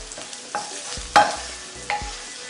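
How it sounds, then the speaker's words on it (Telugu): Chicken curry with coriander powder is stirred in a frying pan, a few distinct scraping strokes of a spoon over a low, gentle sizzle, close up and without voices. "బాగా కలుపుకోవాలి."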